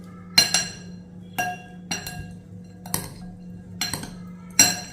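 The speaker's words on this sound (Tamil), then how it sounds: "இதை நல்லா மிக்ஸ் பண்ணிக்கிடுவோம்." Sharp clinks of a spoon against a bowl repeat at irregular intervals as a sprouts salad is stirred, close up over a low steady hum.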